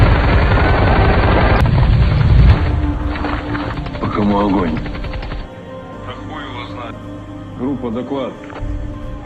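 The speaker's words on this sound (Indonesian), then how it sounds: "Dengan aba-aba dan tembakan senjata mesin, pasukan sniper Ukraina pun melesatkan tembakannya" Bursts of sniper rifle and machine gun fire from a war film scene, heavy at first and then thinning out, while a narrator talks over the action.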